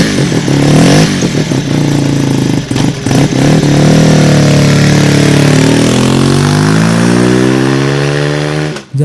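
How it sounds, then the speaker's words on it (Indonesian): A Suzuki RE5 rotary-engine motorcycle idling, a loud, close, continuous throbbing engine note with slight wavering in pitch, running alone throughout before cutting off at the end. "Saat motor Suzuki RE5 lagi langsam atau sedang stasioner,"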